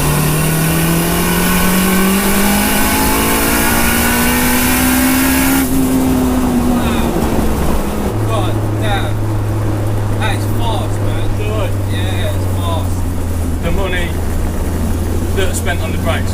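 A turbocharged 420 bhp Honda Civic Type R EP3 accelerates hard, its engine note climbing loudly and close, then dropping as it shifts gear and pulling again at a lower, steady drone, with turbo chirps.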